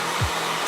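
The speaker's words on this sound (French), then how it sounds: "Mon sèche-cheveux, bien sûr." A hair dryer blows with a steady, loud broadband rush, two brief low thumps breaking the constant airflow, with no voices.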